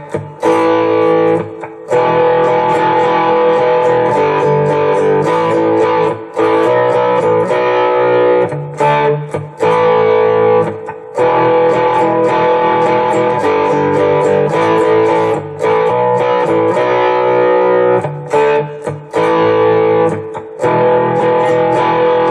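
A four-string cigar box guitar, amplified with gritty distortion, plays a riff, loud chugging chords in a repeating pattern with short breaks between phrases, four passes of the figure.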